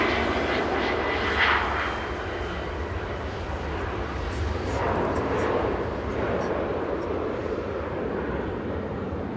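An Air Canada Boeing 787 Dreamliner at Manchester Airport gives off a steady, moderately distant jet rumble with small swells, while people talk softly underneath.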